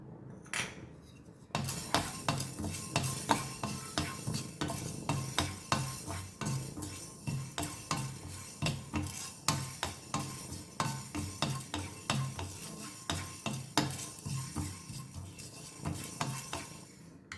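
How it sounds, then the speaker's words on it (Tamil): Fenugreek seeds are stirred and dry-roasted in a pan for rasam powder. A close spoon scrapes the pan in steady rhythmic strokes, and the seeds rattle and tick against the metal throughout. "அடுத்தது வெந்தயம், இதையும் வறுத்துக்கலாம்"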